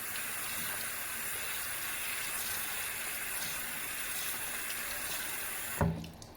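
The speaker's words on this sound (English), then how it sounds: "So this is the final rinse for this brush, I reckon." A makeup brush gets its final rinse under a running tap, giving a steady, continuous rush of water that stops abruptly near the end with a small clunk.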